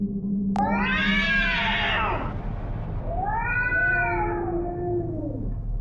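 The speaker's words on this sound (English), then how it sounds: "It started to mimic the sound of my cat" A cat meows loudly twice in drawn-out, wavering cries, close by, with a steady hum underneath.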